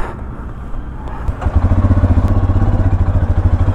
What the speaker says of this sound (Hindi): और मैं बाइक लेके अभी पीछे जा रहा हूँ।